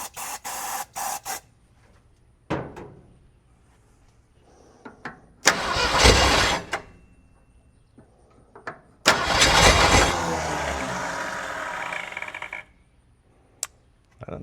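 A 1968 Ford Torino with a seized engine cranks on its starter after brake clean is sprayed in, giving a few short bursts of loud, harsh churning separated by quiet gaps and clicks.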